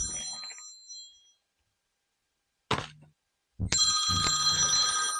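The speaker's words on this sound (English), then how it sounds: "why is my phone still ringing?" A phone ringing even though it was set to Do Not Disturb: a bright electronic ring bursts in briefly after a pause, then sounds again loud and steady to the end, with faint background noise at the start.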